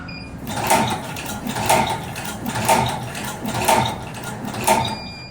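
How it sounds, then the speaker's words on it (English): A tag stringer machine runs with repetitive mechanical clacking and ratcheting in an even rhythm, about five cycles spaced roughly a second apart, close and moderately loud. "Every 5 pieces, machine will stop. And then you need to run again. You have to press start."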